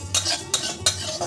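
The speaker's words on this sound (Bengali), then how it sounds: "এবার জিরে ধনেটা অল্প একটু ভেজে নেব" Cumin and coriander seeds dry roasting in a pan are stirred with a spoon, giving three rhythmic scraping strokes close up over a faint low hum, with no talking.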